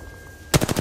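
A rapid burst of video game gunfire erupts after a quiet lead-in, five or six loud close shots in quick automatic succession.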